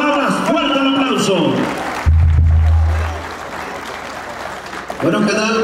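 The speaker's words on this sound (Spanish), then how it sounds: "fuerte el aplauso para Chuy Ordaz" An audience at a jaripeo rodeo at Rancho El Principio bursts into a few seconds of broad, noisy applause after an announcer's voice, then fades as talking resumes.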